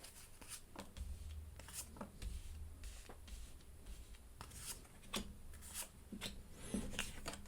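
Tarot cards are shuffled by hand for a Monday reading, giving close, soft papery riffles and slides in irregular bursts with small taps between them.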